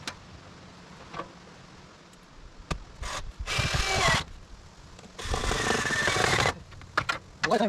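A cordless drill drives screws into wood board and batten siding at an off-grid cabin, with two sustained whirring bursts of about a second each, close and loud, separated by clicks and handling taps.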